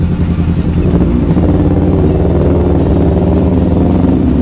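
Fast cars race past on a busy street, a loud continuous roar of engines and tyres with rattling, revving surges, some sounding like motorcycles, and no talking.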